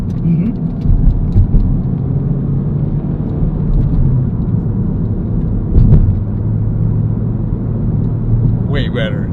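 A Honda Civic FL5 engine with a Spoon Sports N1 exhaust rumbles steadily at close range, a low, continuous drone with mild swells as the revs shift. Voices talk quietly underneath it.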